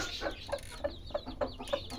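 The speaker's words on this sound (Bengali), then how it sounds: "এই মুরগিটা" A native deshi hen that has just hatched chicks clucks softly in a farm coop, giving about six evenly spaced short clucks over two seconds against quiet background noise.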